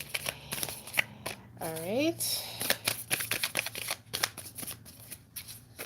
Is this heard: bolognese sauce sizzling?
no